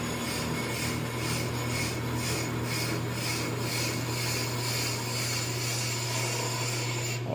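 A brake lathe cuts a brake rotor from a 2021 Cadillac Escalade, giving a steady close scraping hiss with faint rhythmic pulses over a constant motor hum throughout.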